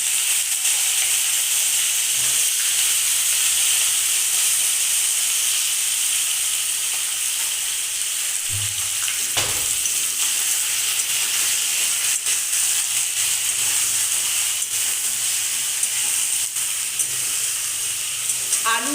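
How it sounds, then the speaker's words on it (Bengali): Potato and eggplant lightly frying in a pan, a steady high sizzle and hiss running throughout with a few soft clinks and stirring knocks, no talking. "আলু বেগুনটা একটু হালকা ভেজে নিয়ে আমি ফিরে আসছি।"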